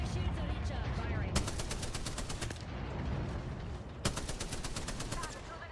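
Two loud bursts of rapid automatic gunfire in the Apex Legends video game, each lasting about a second, cut through constant in-game background noise.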